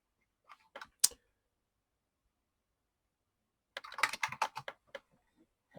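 Fingers tap a computer keyboard in two short bursts, a few keystrokes first, then a quicker run of clicks after a long silence, close and dry.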